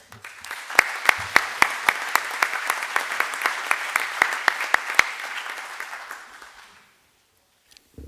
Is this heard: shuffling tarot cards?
no